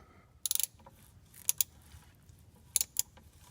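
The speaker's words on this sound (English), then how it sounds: "let's go ahead and take the two 15 millimeters off" A hand ratchet loosening the 15 mm starter bolts on a Fiero GT, with short bursts of rapid clicking at three separate moments, close and crisp, over a quiet garage background.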